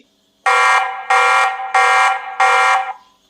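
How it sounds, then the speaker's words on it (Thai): The alarm siren of a TP-Link Tapo C210 security camera blares in four loud, evenly spaced bursts, each a harsh tone lasting about half a second. "หากมีขโมยขโจรเข้าบ้านคุณผู้ชมกดสัญญาณเตือนได้เลยครับ เป็นเสียงแบบนี้"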